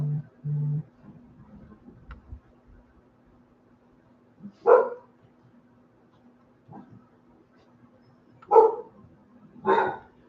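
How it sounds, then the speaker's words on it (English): Dogs barking in a few separate bursts, somewhat distant, with quiet gaps between the barks and a faint hum underneath. "I need to figure out why they're barking."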